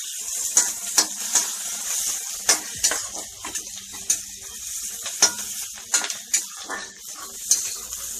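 Chillies and onions frying in hot oil in a pan give a steady bright sizzle, broken by frequent sharp scrapes and taps of a spoon as they are stirred.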